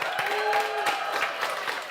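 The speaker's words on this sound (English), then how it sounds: "A round of applause to them" Audience applause at a Sauti Sessions live podcast event on people and protest, a dense steady wash of many hands clapping with faint cheering mixed in, sustained and fairly loud throughout.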